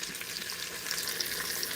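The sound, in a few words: pot roast meat sautéing in an Instant Pot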